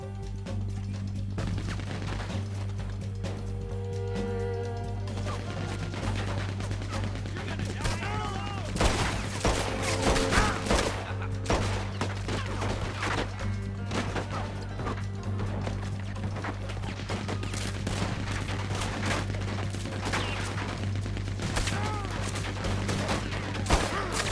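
Scattered gunshots crack through a Red Dead Redemption 2 shootout, with repeated fairly faint reports over a steady low hum and a voice talking at times.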